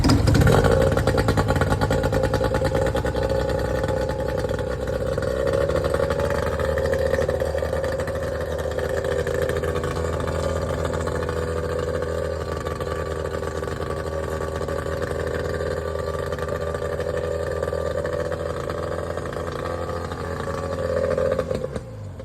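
A 15hp Yamaha outboard motor runs steadily after a water pump replacement, a close, loud, continuous engine drone with slight pitch wavering throughout and no talking.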